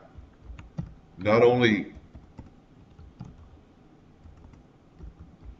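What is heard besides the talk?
typing on a computer keyboard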